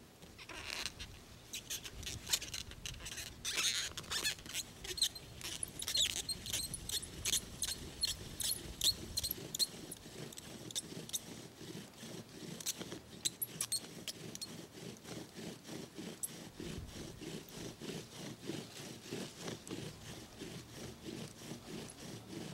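A bow drill spindle rubs into a wooden fireboard to burn a hole. The quiet, rhythmic back-and-forth scraping and creaking strokes continue steadily throughout, up close.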